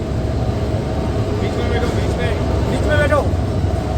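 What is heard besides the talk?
ropeway cable car running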